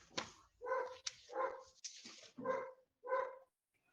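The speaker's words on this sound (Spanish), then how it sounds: "¿Se escucha un perrito?" A neighbor's dog barks five times in fairly quick, uneven succession, close and clear against quiet background, with a short gap before the last two barks.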